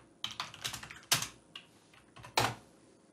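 Quiet typing on a computer keyboard, with irregular bursts of soft key clicks and a few heavier keystrokes, close up and without talking.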